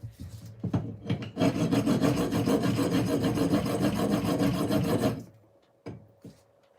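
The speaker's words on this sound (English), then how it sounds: "Does anybody know why this is called a bastard file?" Rough, continuous rasping from a bastard file worked back and forth on an RC truck part for several seconds, close and steady, then a couple of brief scrapes after it stops; no voices.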